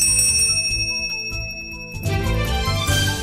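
Bells ring out at a craft market in Beroun devoted to bells, chimes and carillons, with bright sustained bell tones and repeated strikes layered densely over the whole stretch, loud and close.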